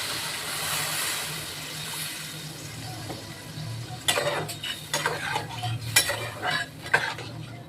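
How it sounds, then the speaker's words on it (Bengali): A steady frying hiss fills a pan on the stove where potato and vegetable stalks cook, then water is poured in and a spoon clatters and stirs in uneven close bursts. "আমি জল দিয়ে দিচ্ছি।"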